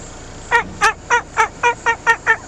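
A person imitates a Cooper's hawk with eight evenly spaced, sharp nasal kek calls, loud and close, with no other sounds around them.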